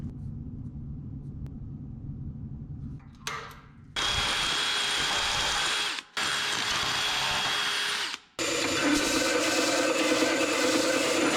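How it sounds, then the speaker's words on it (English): A handheld power drill bores holes in metal for DIY coilover mounts on a 1967 Toyota Stout, its loud high whine running in long bursts broken by two brief stops, close up after quieter ambient noise. "Drilled good there."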